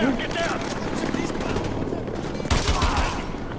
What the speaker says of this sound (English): A full auto shotgun that has no fucking recoil.